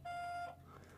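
A single steady electronic beep from an automatic voice message system on a phone line, loud and held for about half a second before fading into quiet line noise.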